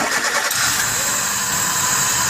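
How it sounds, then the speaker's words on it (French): A car engine cranks and catches, then settles into a steady, fairly fast idle, running loud and close for a couple of seconds, with faint talk mixed in. "Je vais pouvoir demander à mon collègue de démarrer la voiture."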